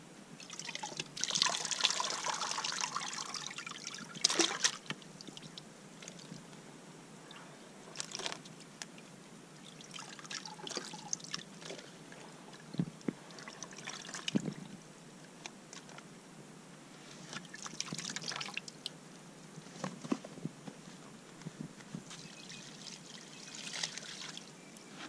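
Fish, including oscar, tilapia and hoplo catfish, are washed by hand in water, giving faint, irregular splashes, sloshes and drips in short bursts with quiet gaps between them.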